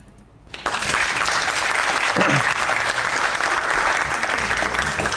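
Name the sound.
applause sound effect played on a podcast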